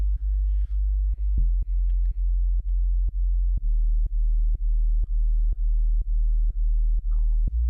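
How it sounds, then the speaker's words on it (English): A sine-wave sub bass synth played through a Moog, in an Afro house track: a deep, steady low tone sustained throughout, with short clicky pulses repeating roughly twice a second. "there's nothing crazy with this sub, it's literally just I think it's a sine wave"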